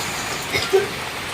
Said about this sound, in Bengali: দেখেন বৃষ্টিটা দেখেন